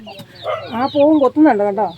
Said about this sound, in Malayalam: പെടക്കോഴി മുട്ടയ്ക്ക് കാറുന്നുണ്ട്